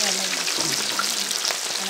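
Beef pieces frying in hot oil for beef pickle, a close, steady hiss and crackle that stays even throughout with scattered light pops.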